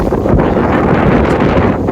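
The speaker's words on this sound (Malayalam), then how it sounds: "നല്ല കാറ്റുണ്ട്" Wind blows outdoors in a strong, steady rush buffeting the microphone, loud and unbroken throughout.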